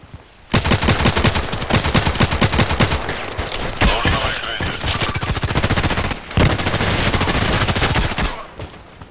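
Rapid automatic gunfire from the online shooter game Contract Wars, dense bursts of loud rifle shots rattling almost nonstop for several seconds, with one brief pause before the shooting resumes.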